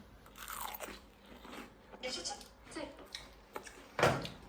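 Close, crisp biting and crunchy chewing of food in several uneven bursts, finishing with one loud bite near the end, with faint voice in the background at times.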